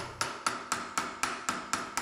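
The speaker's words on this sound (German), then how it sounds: "der Hammer führt nur leichte Schläge aus und die Schläge schweifen am Blech vorbei" A hammer lands light, evenly spaced blows on sheet metal laid over a wooden form while a flange is folded over, about eight sharp metallic taps in a steady rhythm, close up with nothing else heard.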